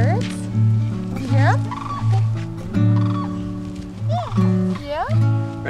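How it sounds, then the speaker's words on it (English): Turkeys gobble outdoors in a snowy setting at Christmas, with repeated warbling calls coming in bursts over steady tonal sound, while voices also appear to talk nearby. "See the birds?"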